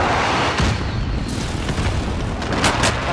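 A video game airstrike explodes in a loud, sustained booming roar that fills the whole moment, with rumbling debris and crackling bursts layered on top and no clear talking.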